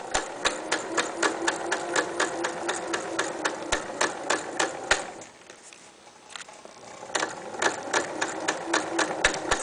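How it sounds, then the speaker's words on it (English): A sewing machine stitches fabric panels of a locker caddy together with dark matching thread, its needle ticking in a fast, even rhythm close by, pausing briefly midway before running on again. "I'm going to go forward a few stitches and reverse back stitch a few stitches."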